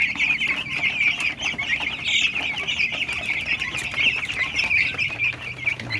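Crowded 21-day-old broiler chickens cluck in a steady, dense chorus while pecking, a continuous nearby flock chatter with no talking.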